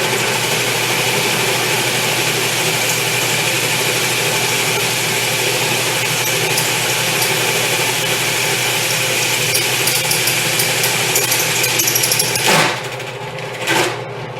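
A power tool bores a 1-inch hole for a cargo trailer elevator bed, a loud sustained motor drone that runs steadily before abruptly cutting off, followed by brief clatter near the end.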